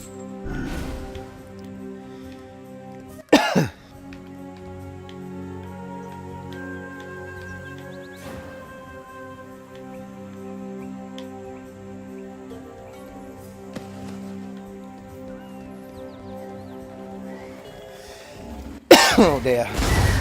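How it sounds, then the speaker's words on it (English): A man coughs sharply at close range, once early and again near the end in a short burst, over a bed of sustained game music drones from Path of Exile on Xbox One X. "my nerves making me cough"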